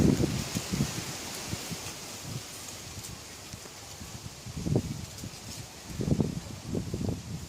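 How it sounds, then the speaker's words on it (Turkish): Gusting wind stirs leaves in a broad, steady rustle in a farmyard garden with chickens, with louder bursts of movement and soft irregular thumps coming and going. "Hava bugün biraz rüzgarlı."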